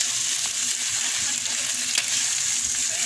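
Mussels (tahong) sizzle steadily in a hot pan as they are stir-fried, a constant close frying hiss with faint stirring scrapes.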